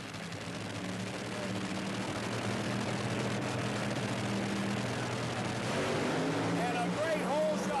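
Drag racing cars roar through the 1982 NHRA Cajun Nationals semifinal run between Shirley Muldowney and Lucille Lee. The engine noise is a steady, somewhat distant drone throughout, with an announcer talking over it.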